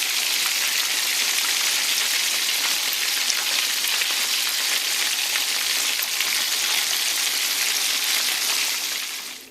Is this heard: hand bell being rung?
no